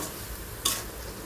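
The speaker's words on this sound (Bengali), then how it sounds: "আমি সব মশলাই একটু তেলে ভেজে নিই, চুলা কমায় তারপরে তেলে ভেজে" Spices and ginger-garlic paste frying in oil over a lowered flame, a soft even sizzle with one brief sharp stirring scrape near the middle.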